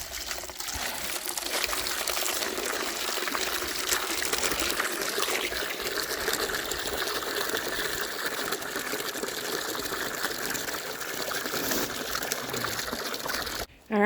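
Water from a hose runs steadily into animal water containers on a homestead, filling them with mountain spring water; a continuous, fairly close hiss and trickle lasting throughout with no talk.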